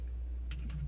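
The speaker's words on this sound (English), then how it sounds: "So we type" A few quick, faint keystrokes on a computer keyboard while entering a command during a Raspberry Pi 4 setup, soft clicks over a low steady hum.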